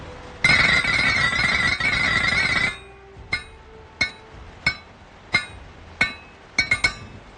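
Metal ringing from forging a sword blade in Project Zomboid: a sustained bright grinding clang for about two seconds, then seven sharp hammer strikes on metal at irregular intervals, each with a short ringing decay.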